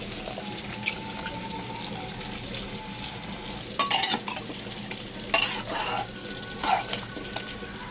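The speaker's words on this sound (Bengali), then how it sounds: "এবারে জল দিয়ে দেবো জল বেশ কিছুটা অনেকটা পরিমাণেই দিতে হবে" A generous amount of water poured into a pot of simple chicken stew, a steady close rushing flow with a few louder splashes and stirring clatters, no talking.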